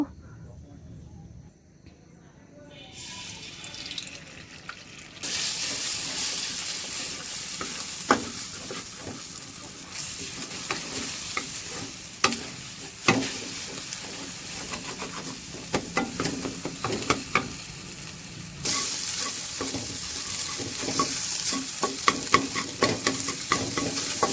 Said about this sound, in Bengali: তেলটা গরম হলে তার মধ্যে এখন আমি যে ডিম 2টা ফেটে রাখছিলাম ওইটা দিয়ে দিব